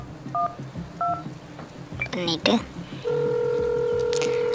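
Mobile phone keypad tones dial an emergency number during a car crash first responder simulator game, a few quick paired beeps followed by a steady ringing tone, with someone speaking over it.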